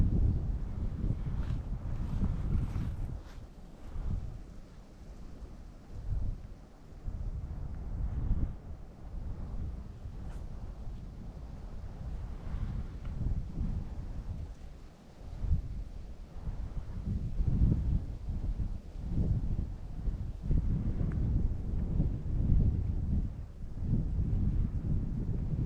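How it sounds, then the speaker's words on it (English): Wind blows steadily across a lake during a fishing outing, a continuous low rumble with gusty surges buffeting the microphone throughout, no voices heard. "because the wind's blowing that way"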